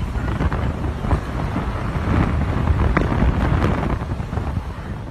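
A strong wind gust of about 60 mph roars and buffets the microphone in a dense low rumble, swelling and easing over a few seconds; loud and close, with no speech.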